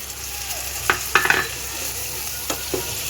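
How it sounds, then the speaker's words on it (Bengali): A paste of ground cumin, coriander and turmeric mixed with water fries in a pan for a fish curry, a steady soft sizzle punctuated by several sharp spoon scrapes and clinks. "ভেজে নেব, কাঁচা গন্ধটা চলে যাওয়া পর্যন্ত।"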